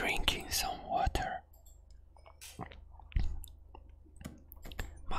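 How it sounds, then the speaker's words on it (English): Soft mouse and keyboard clicks come from playing the TMNT Mutant Madness game in an ASMR session, scattered close clicks and taps mixed with quiet whispering and faint mouth sounds. "Mouse and keyboard sound too."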